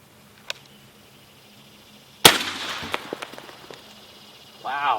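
A 300 Blackout rifle fires a single sharp shot of Remington UMC 115 grain closed tip flat base ammunition. A short ringing tail follows, then scattered small impacts, against quiet outdoor background.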